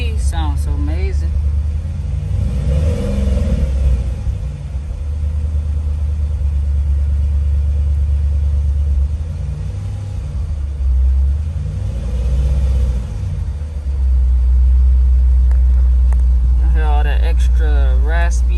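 A 2010 Dodge Challenger SRT8 V8 idles with a deep, raspy rumble, close up and steady, swelling slightly louder near the end, while someone talks over it.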